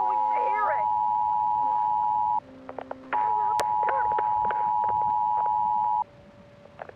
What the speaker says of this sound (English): it creates a emergency signal on the phone